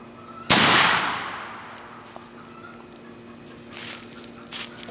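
A .45 1858 cap and ball revolver firing a round ball into ballistic gel gives a single sharp, loud report with a decaying ring, then quiet room noise and faint clatter.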